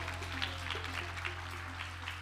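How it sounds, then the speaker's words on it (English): Crowd applause at a keynote event, a steady wash of many hands clapping with scattered whoops, fairly quiet and distant over a constant low hum. "You clap for that."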